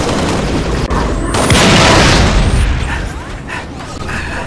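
Loud, dense gunfire and booming blasts in the Halo Reach video game fill a continuous, noisy battle soundscape with a brief pop near the start and a swelling burst in the middle.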